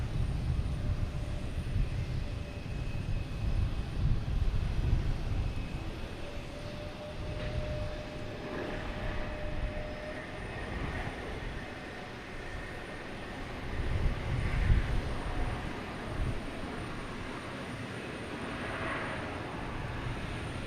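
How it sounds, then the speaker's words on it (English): An Air Canada Airbus A220 arriving from Toronto at Boston Logan Airport gives a steady jet roar that swells and fades over about twenty seconds, heard alone with no talk. "Now we got an Air Canada coming in from Toronto. A220, fan favorite."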